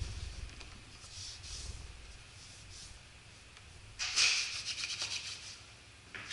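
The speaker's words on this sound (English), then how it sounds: "I will use a little extra chalk in my hands to really just try to get a little extra coating on there" Chalk rubbed onto a kettlebell handle, a soft dry brushing and scraping that runs quietly at first, then grows louder and busier in the last couple of seconds, with no talking.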